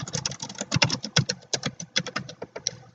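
Fingers type a name on a computer keyboard in a rapid, uneven run of crisp key clicks, close and clear, with no talking.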